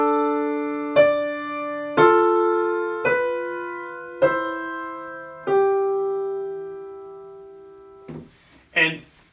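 A second species counterpoint example played on a keyboard-like instrument: five evenly spaced struck notes that each ring and decay, followed by a couple of short noisy sounds at the end.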